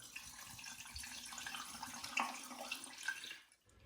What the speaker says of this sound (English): I'm going to add some vodka and try and wash the funnel out as I do